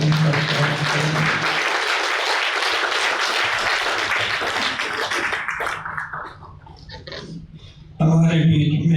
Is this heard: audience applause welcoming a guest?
yes